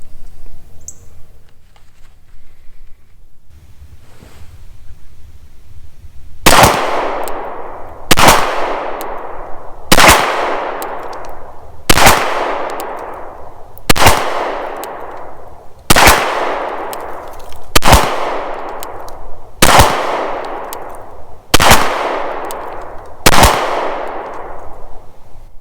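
Pistol shots from a Browning Hi Power P35 fired on an outdoor range, ten sharp loud cracks spaced at a steady interval of about two seconds, each trailing a short ringing decay.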